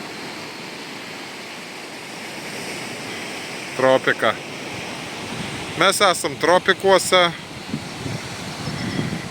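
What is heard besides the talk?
ocean waves on lava rocks, Sao Miguel, Azores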